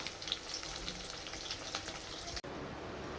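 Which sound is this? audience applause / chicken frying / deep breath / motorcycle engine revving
chicken frying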